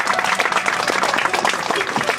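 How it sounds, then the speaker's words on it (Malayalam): A large audience at a children's meeting of the Maramon Convention claps to welcome a bishop: dense, loud, sustained applause filling the space throughout. "നമുക്കൊന്ന് കൈയടിച്ച്"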